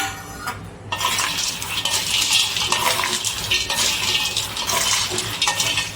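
Roasted chickpeas and other dry ingredients for homemade protein powder being stirred and tossed together, a steady, close rustling and scraping that runs almost continuously after a brief quiet start.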